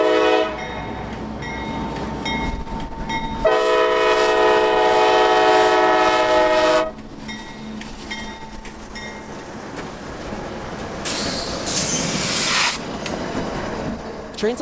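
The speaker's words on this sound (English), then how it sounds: "loaded ammunition trains like this S-800, departing the island and crossing the long hump-shaped bridge over the St." A CSX military ammunition freight train, S-800, crosses a long hump-shaped bridge over the St. Johns Strait, sounding a loud, sustained horn blast over the steady rumble and clatter of the cars.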